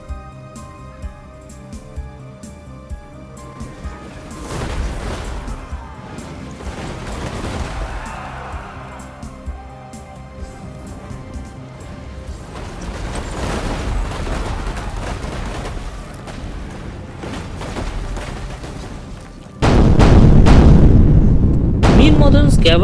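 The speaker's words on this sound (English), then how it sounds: "His troops were met by a deadly fire of grape shots." Battle sound effect of cannon firing grape shot, with booming blasts and rumbling gunfire building over a dense din that grows louder and then surges sharply near the end, with a narrating voice over it.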